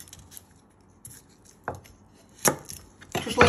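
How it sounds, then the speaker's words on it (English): A knife trims the ends off garlic cloves on a cutting board, a few sharp separate knocks spaced unevenly, the last ones louder and closer, with no talk. "you're going to prep your garlic. You first want to trim the ends."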